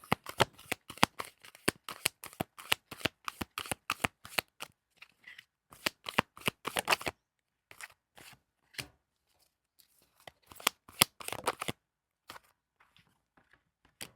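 Tarot cards riffled and shuffled in quick bursts of crisp flutters, then a few softer separate snaps as cards are drawn and laid down, close and fairly quiet with no talking.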